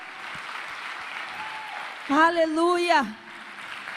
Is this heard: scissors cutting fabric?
no